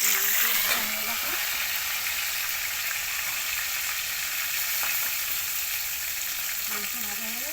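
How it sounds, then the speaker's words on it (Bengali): Chicken meat and potatoes fry in a pan with a continuous loud sizzle and crackle, close by, while someone talks over it intermittently. "আলুটা লাল লাল করে ভেঙে মাংস ভাজা হয়ে গেছে"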